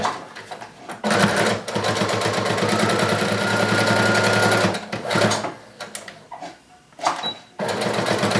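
A sewing machine stitches the outer edge of a casual shirt collar up close, running loud and steady in long rhythmic bursts, then stopping and starting again in shorter runs.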